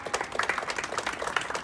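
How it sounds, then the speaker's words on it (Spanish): Brief round of audience applause in a hall of the Mexican Senate after a participant named Luz María is introduced, steady overlapping claps of moderate loudness with no voices over them. "Denle un aplauso a Luz María"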